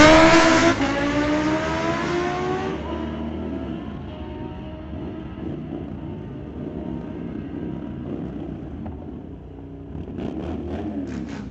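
A Kawasaki ZX-10R and a 2018 Ducati launch side by side at a street-legal drag strip. The engines scream loudly as they rev up through the gears, then the sound fades into a distant roar down the track.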